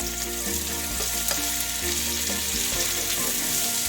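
Onions and sweet potatoes fry in a pan with a steady close sizzle and light stirring scrapes, over a background of tonal music, with no speech.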